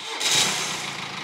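A Mercedes W213 engine starts up and runs at a steady, smooth idle in a workshop, close and continuous with no talk over it.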